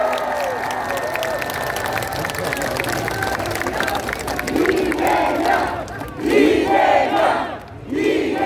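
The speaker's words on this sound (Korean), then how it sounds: "함께한 동지들을 위해서 박수 한번 부탁드립니다." A large crowd at a political rally in Bupyeong cheers and applauds loudly, a continuous roar of voices with shouts rising and swelling in waves toward the end.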